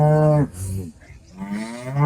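Large HF dairy cows at the Loni cattle market moo loudly and close by, with two long, deep calls and a brief lower lowing between them.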